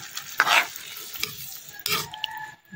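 Ampalaya and other ingredients being stirred in a cooking pan: a few scraping, clattering strokes against a faint sizzle, with short bursts of louder noise between quieter moments.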